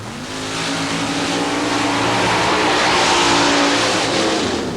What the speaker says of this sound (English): Gambler is the name of this vehicle with a 454 big block Chevrolet providing the horsepower.